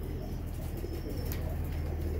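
Soft, repeated cooing of pigeons against a steady low background hum, with faint wing flutters and chirps mixed in.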